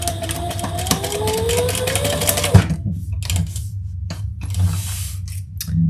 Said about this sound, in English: I'm just gonna stitch over my ends